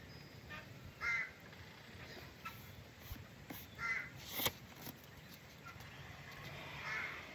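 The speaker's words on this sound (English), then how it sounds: "You greedy bird." A bird calls nearby, giving a handful of short, harsh caws spaced irregularly over a faint, steady background hum, some bursts louder than others, with no talk.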